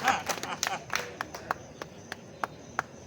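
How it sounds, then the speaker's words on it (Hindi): Scattered hand claps from an audience at an outdoor Hindi poetry gathering (kavi sammelan) during a Ganesh festival program in Bundi, starting as a brief busy patch and thinning to sparse, separate claps. "आप खुलकर तालियां बजाओ।"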